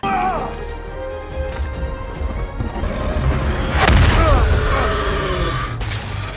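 Grenade explosions from a giant mutated monster movie scene: a heavy blast booms out midway over a rumbling, chaotic battle bed, with a narrator talking throughout.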